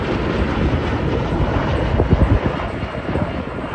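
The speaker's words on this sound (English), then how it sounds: "we've got an extra pass here from the Poseidon" A Boeing P-8 Poseidon making a pass at the Australian International Airshow 2023, a loud continuous jet roar with rumbling low end that swells slightly midway and holds steady, no voices.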